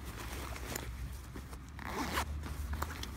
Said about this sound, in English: On the back, you have a zipper.